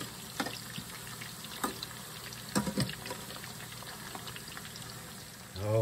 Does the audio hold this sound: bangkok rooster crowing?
no